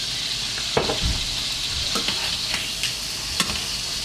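Seasoned chicken pieces brown in a hot pan with a steady, close sizzle and frying hiss, broken by a few sharp clicks and scrapes as the pieces are shifted.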